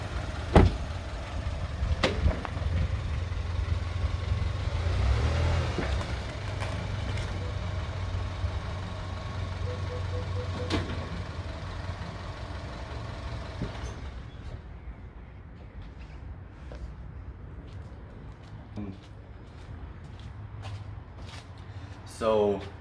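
A 2023 Chevy Colorado Trail Boss pickup reverses with a low, steady engine rumble close by, and a few clicks and knocks sound over the idle.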